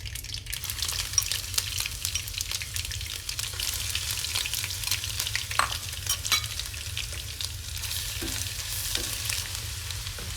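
Garlic goes into hot oil where mustard seeds have already roasted, sizzling steadily and close up with occasional stirring clicks for a pickle of cauliflower, carrot and turnip; nobody talks.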